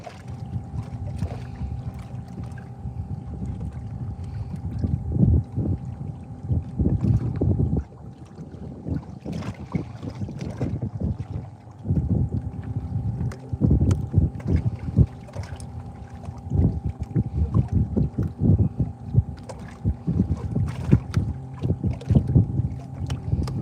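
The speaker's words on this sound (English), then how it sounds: "the wind is an issue right now" Wind buffets a fishing boat on Lake Kissimmee, producing steady gusty rumbling microphone noise with irregular bumps and knocks against the hull throughout, a continuous low drone beneath.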